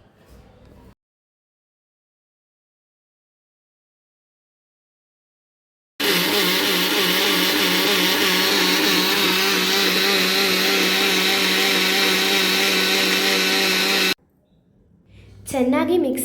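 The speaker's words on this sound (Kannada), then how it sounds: "ಅದನ್ನು ಒಂದು ಮಿಕ್ಸಿಯಲ್ಲಿ ಹಾಕ್ಕೊಂಡು ಸ್ವಲ್ಪ ಕಲ್ಲುಪ್ಪನ್ನ ಬೆರೆಸ್ಕೊಂಡು ತುಂಬಾ ನುಣ್ಣಗೆ ರುಬ್ಕೊಳ್ಬೇಕು." A mixer grinder grinds soaked rice and chana dal with rock salt into a fine paste. Its loud, steady motor whir runs for about eight seconds after a silent stretch, then cuts off abruptly.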